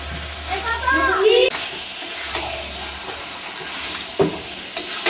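Mutton being sautéed in a pan for a goat curry with potatoes makes a steady sizzle under brief voice-like sounds early on, with several sharp spatula knocks and scrapes toward the end.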